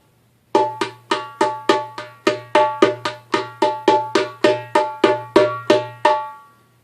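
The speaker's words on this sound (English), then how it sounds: "Here's a demonstration of the basic technique." Darbuka played slowly with a clockwise split hand technique: about eighteen evenly spaced, crisp strokes in a steady pulse, each ringing briefly with a low resonant hum beneath.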